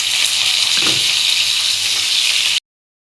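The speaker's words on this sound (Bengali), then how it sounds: "এখন উচ্ছেগুলো ভেজে নেব।" Bitter gourd frying in hot oil in a kitchen, a loud steady sizzle with a brief stir partway through, cutting off abruptly into silence near the end.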